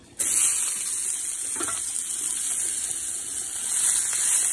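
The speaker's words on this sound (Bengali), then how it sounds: "এখন এই যে উচ্ছে রয়েছে, উচ্ছেগুলো ভাজা করব" Bitter gourd sizzles as it fries in a pan, a steady hiss of hot oil starting abruptly and holding at an even, close level throughout with no talking.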